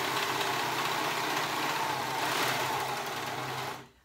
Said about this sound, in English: I'm using a different serger today than my usual.